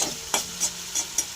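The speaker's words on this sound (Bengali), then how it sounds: "এবার আমি এগুলোকে ভালো করে মিক্স করে নেব" Fried garlic being stirred with soy sauce and vinegar for chicken momo filling, giving four distinct scraping strokes at an even rhythm over a steady low sizzle, close and clear with no talking.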